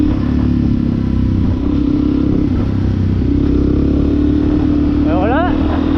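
A new motorcycle on a road test drones steadily up close, a loud continuous engine note with wind rush throughout and a brief rising whine near the end.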